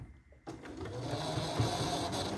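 Sewing machine stitching a quilt block for a strawberry garden quilt, starting after a brief quiet moment and then running steadily with a fast, continuous mechanical whir, close and alone.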